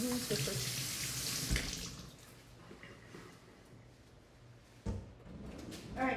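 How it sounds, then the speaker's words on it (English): Water runs from a kitchen tap during handwashing, a steady, moderately quiet rush with a few clunks and a brief spoken word partway through. "Gotta wash the hands"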